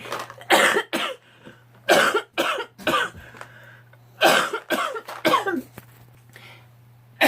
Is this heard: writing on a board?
no